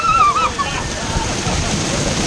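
Water sloshing and splashing around a floating lazy river ride, a continuous loud wash of churning water close by, with voices mixed in.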